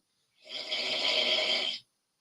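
A single drawn-out snore, a raspy breathy rumble lasting under two seconds, close and isolated against silence.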